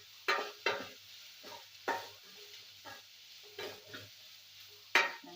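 Sliced onions sizzling in a pan while being stirred with a utensil; a few distinct scraping strokes over a low, quiet frying hiss, close up, no talk.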